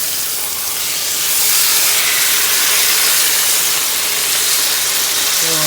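Steak searing in a hot pan gives a loud, steady broadband hiss and sizzle that swells slightly and holds evenly throughout, with no voices over it.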